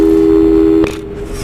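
In the video game Portal 2, a telephone call tone rings out as a loud steady electronic hum, then cuts off abruptly with a click, with no talk.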